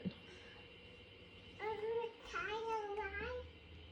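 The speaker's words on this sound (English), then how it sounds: "There's a cat under the slide?" A cat under a playground slide gives several drawn-out, wavering meows at mid distance, with faint background noise between the calls.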